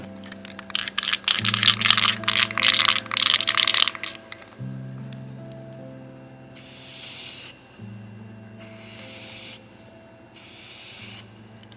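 Spray paint hisses from an aerosol can as a second coat goes onto a project bike, first in a long busy stretch with a low hum underneath, then in three separate bursts of a few seconds each, loud and close.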